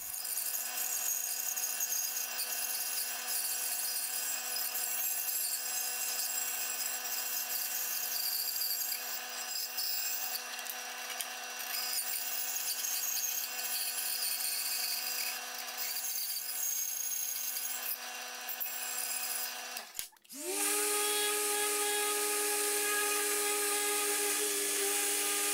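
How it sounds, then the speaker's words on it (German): A band saw cuts through a piece of wood for a wooden desk tray, a loud steady high-pitched whine and rasp running continuously, then the blade runs free and the tone shifts as the cut ends. "Den werden wir jetzt mit der Bandsäge einmal aussägen."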